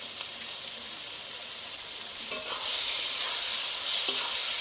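Chili paste with Kashmiri chili powder and turmeric frying for bhuna chicken sizzles with a bright, steady hiss that swells partway through as the pan is stirred, with faint scraping beneath.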